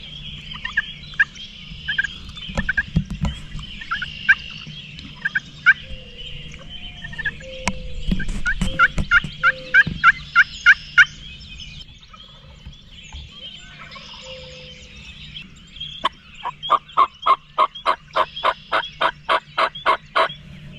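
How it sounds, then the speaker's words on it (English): Several wild turkey gobblers gobble at dawn in the Ohio woods, their rattling calls repeating in bursts, some nearer and louder and others distant, with faint bird chatter between them and no voices. "I think there's 3 different gobblers."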